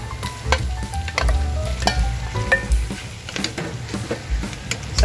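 Boiled pork dropped into a pot with tomatoes sizzles and spatters loudly, with repeated stirring clacks of a utensil against the pot, close up and continuous for several seconds.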